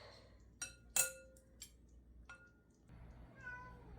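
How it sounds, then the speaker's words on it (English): A house cat meowing and whining in the background of a kitchen, faint and intermittent, mixed with close clinks of forks against a bowl while chicken is shredded, and no speech. "Don't mind my cat in the background. He's always whining."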